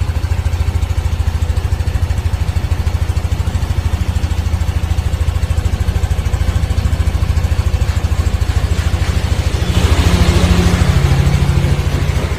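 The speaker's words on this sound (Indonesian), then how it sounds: "hasilnya suara dari mesin motor ini halus" A small Yamaha NMAX scooter engine, freshly flushed with PTT flushing oil, idles steadily and smoothly, a close, even putter that continues without pause and rises slightly in loudness near the end.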